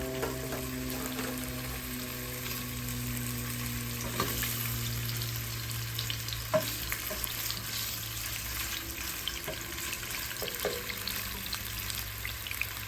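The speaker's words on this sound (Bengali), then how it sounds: "আমি প্রথমে পনিরগুলোকে ভেজে নেব তেলে, কিউব কিউব করে কেটেছি।" Cubes of paneer frying in hot oil for an egg curry, giving a steady, close sizzle with occasional sharper pops and spatters throughout, no voices.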